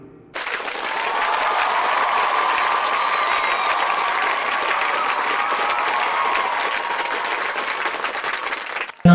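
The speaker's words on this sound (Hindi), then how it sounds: "मैं आपकी जोरदार तालियों के बीच में कॉल करने जा रहा हूँ मिस्टर हिमांशु विरोधिया।" A large audience at an RCM business celebration event applauds steadily and loudly for about nine seconds, a dense, even clapping that holds from start to finish with no voices above it.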